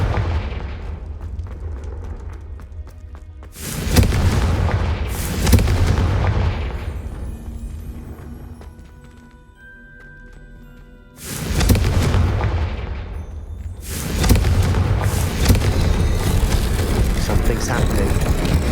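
Confringo explosive spells in Hogwarts Legacy go off as heavy booming blasts, several in close succession, each loud burst decaying into a rumbling tail before the next strikes.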